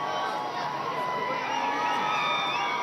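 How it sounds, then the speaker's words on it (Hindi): A crowd gathered at a polling station in Ahmedabad to see Prime Minister Narendra Modi during the Gujarat election makes a dense, steady roar of cheering and shouting voices, close and continuous throughout. "भीड़ इकट्ठा है।"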